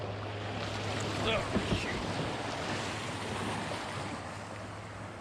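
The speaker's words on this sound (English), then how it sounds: "here comes some big waves. Don't splash my boat." Large waves roll and splash against a small boat on open water, with wind buffeting the microphone; a continuous broad wash of surf fills the scene, and a man briefly exclaims partway through.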